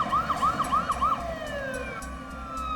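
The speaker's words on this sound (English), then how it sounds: "the normally quiet Back Bay district was swarming with emergency vehicles" Emergency vehicle sirens in Boston's Back Bay district: several quick rising-and-falling wails, then a sustained wavering tone, moderately distant over traffic rumble.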